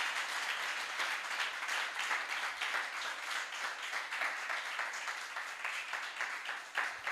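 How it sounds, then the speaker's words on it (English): A summit audience gives a sustained round of applause for a Nigerian food exporting company, steady dense clapping filling the room at a moderate distance without talk. "I would like us to give a round of applause to Zenab Foods for all it has been doing to promote exports in Nigeria"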